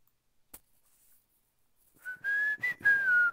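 After a faint click and near silence, someone whistles a short tune of a few sliding notes, close and clear.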